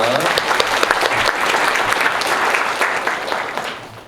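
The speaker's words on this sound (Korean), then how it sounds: "여러분 박수 부탁드립니다" An audience claps at a Suwon lecture orientation session, steady dense applause filling the room for about four seconds and tapering slightly toward the end.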